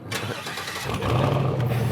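A 1960 Corvette engine cranks and catches, then settles into a loud, steady low rumble close by.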